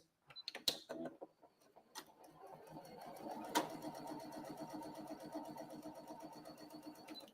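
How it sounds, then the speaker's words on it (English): A sewing machine chain-piecing flying geese quilt blocks: a short burst of clicks and handling, then a steady, fast mechanical whir of stitching that runs on without a break at close range. "And then we're going to sew right along this line. And we're going to chain piece these."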